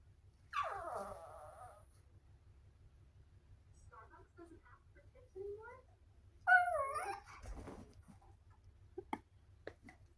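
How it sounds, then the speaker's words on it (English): Dog whimpering indoors in high, wavering whines, with a few short whimpers scattered across the moment and someone speaking softly between them. "I know what she's whimpering for."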